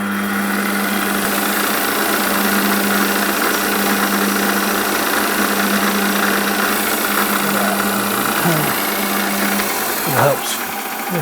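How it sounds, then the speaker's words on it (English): A small metal lathe runs at a steady close hum with a faint tonal whine while a chamfer tool cuts the edge of a part for a finger engine, the whine dipping near the end as the cut eases off. "I'm going to put my chamfer tool in and just chamfer this edge ready for cutting thread"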